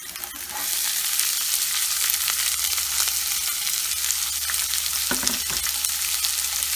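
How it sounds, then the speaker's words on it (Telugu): Sliced onions and green chillies frying in oil in a pan, giving a steady loud sizzle with a few brief clinks from stirring, no voices. "ఇప్పుడు కట్ చేసి పెట్టుకున్న ఆనియన్స్ కూడా వేసుకుందాం."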